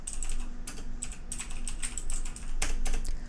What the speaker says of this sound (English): it'll pick up keyboard strokes